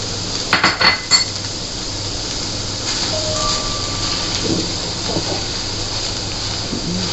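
Frankie masala being added to a pan and stirred, opening with a few sharp clinks of metal utensils against the pan, then a steady hiss of cooking underneath with faint scraping.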